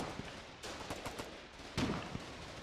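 Gunfire in the online war game Foxhole, faint distant shots and bursts scattered over a muffled battlefield background, one louder report near the end.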